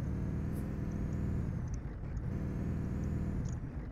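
A heavy truck hauling a 5000 hp heavy-transport load strains uphill in Euro Truck Simulator 2, a loud, continuous low diesel rumble with labored throbbing pulses and faint high whistles above.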